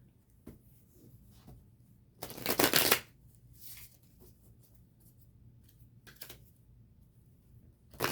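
Osho Zen and tarot cards being shuffled at a private reading, a couple of quick riffling bursts with softer card handling between them, close and clear with no talk.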